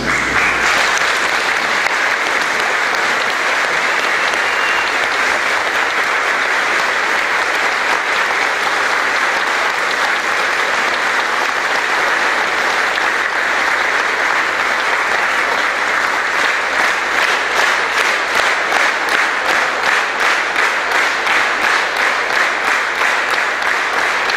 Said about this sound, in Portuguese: eu queria pedir para vocês de pé aplaudir os nossos coralistas